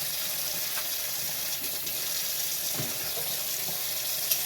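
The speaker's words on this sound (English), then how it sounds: "I handled raw meat with them, so I need to wash them. And I use very hot water." Very hot tap water runs steadily into a kitchen sink while metal tongs that touched raw chicken are washed with dish soap, a constant close hiss with a few light knocks and a faint clink near the end.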